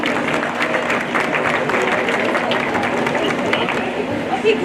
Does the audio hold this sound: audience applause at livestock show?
yes